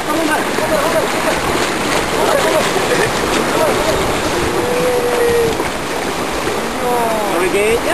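Small boat paddled out with its motor switched off and lifted, water splashing and sloshing around the hull in a continuous loud wash, with voices of people talking and calling over the water.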